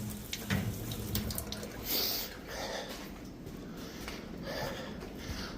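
Water runs from a tap in a steady splashing stream, with a few breathy sounds and brief voices in between.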